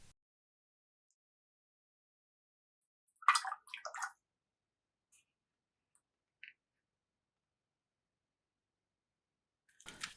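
A square brush works water into shimmer watercolour paint, giving a few soft, brief wet swishes and dabs close by, with long stretches of near silence between them.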